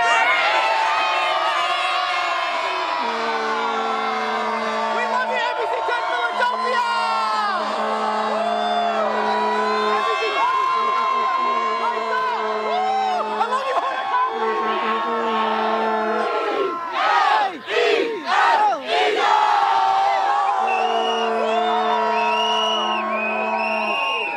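Philadelphia Eagles fans cheer, whoop and yell after the Super Bowl LIX win. The big crowd roars continuously, with sustained chanting and bursts of shouting, and a voice talks at times through the noise.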